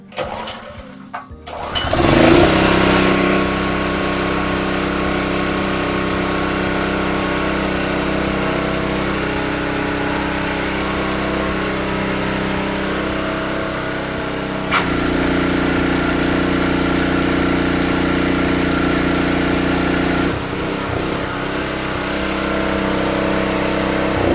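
A Honda GX160 petrol engine on a Highline pressure washer is pulled into life after a few quick rough turns, then runs at a loud, steady drone close by, its tone shifting slightly twice as load changes.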